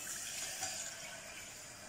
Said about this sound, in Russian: Все, заливаем молоко.